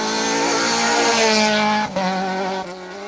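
Rally car number 63, driven by Mark Johnson on a stage of the 2023 Down Rally, screams past close by at high revs, its engine note dipping abruptly mid-pass before fading slightly as it pulls away.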